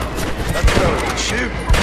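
Gunfire from the Western video game Red Dead Redemption, a quick volley of shots with a couple of heavier booming hits mixed into a dense, busy stretch of game sound.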